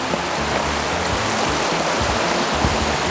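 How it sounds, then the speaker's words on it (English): Steady broadband rush of river water flowing and curling back on itself outdoors near a mountain, constant and fairly loud with no breaks, no voices over it. "The river kind of comes and wraps back in that way."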